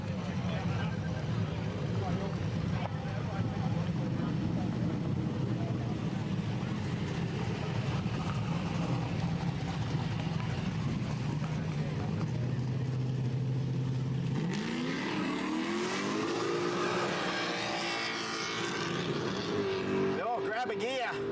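Drag racing cars at a Quick Street charity event launch and accelerate hard down the strip, a loud sustained engine roar rising in pitch through gear changes, with an excited commentator talking over it throughout.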